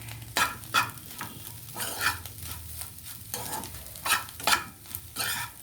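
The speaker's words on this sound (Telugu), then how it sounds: "దీన్ని ఇప్పుడు మిక్స్ చేసుకోవాలి బాగా." Fish and egg mixture frying in a pan while being stirred, steady sizzle broken by repeated scraping stir strokes at an uneven rhythm, close and with no talk.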